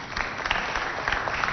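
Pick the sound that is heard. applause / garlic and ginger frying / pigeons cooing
applause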